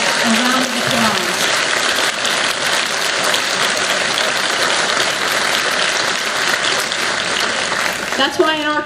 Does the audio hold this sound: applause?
yes